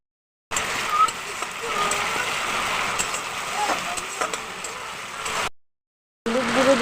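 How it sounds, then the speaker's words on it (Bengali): Water poured into a hot pan of ginger-garlic paste and spices sets off a loud, steady hiss and splatter that lasts about five seconds, then cuts out, and a brief burst of sizzling returns at the end. "জল দিয়ে দেবো মশলাটা কষার জন্য"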